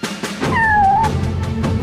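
A single clear cat meow, rising then falling, close by over light background noise.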